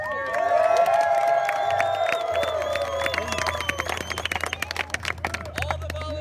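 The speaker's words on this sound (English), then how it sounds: "Everyone give them a huge round of applause." A gathered crowd at an outdoor event breaks into cheering, whoops and shouts, shifting into a scattered patter of clapping, fairly distant and sustained.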